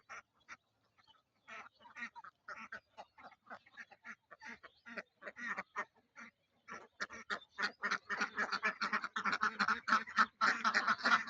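Ducks quack in a busy, overlapping chorus near their duck house by a river, starting sparse and growing louder and denser as more birds join in.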